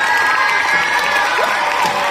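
School audience at a primary school prize-giving ceremony: loud, sustained clapping mixed with excited children's shouts and cheers from a large crowd, continuous throughout.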